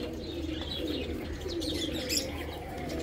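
Several female teddy pigeons cooing together in a loft, soft low coos overlapping steadily with a few chirps on top, fairly close and continuous.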